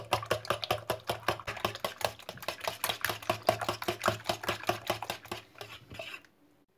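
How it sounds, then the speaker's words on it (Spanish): Eggs for a spinach omelette are beaten fast in a bowl, a rapid, even train of close tapping clicks that carries on for about six seconds and then stops abruptly. "Ahora batimos los huevos"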